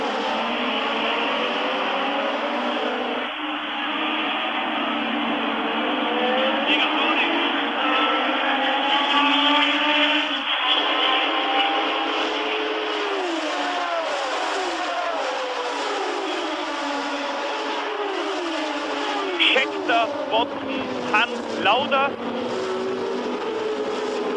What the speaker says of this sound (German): Bester Start von Scheckter.